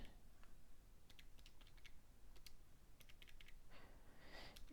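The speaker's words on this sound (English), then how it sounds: "you could type it all into the calculator at once" Numbers are tapped into a calculator, with quick irregular clicks of keys in short clusters, faint and close, against a quiet background.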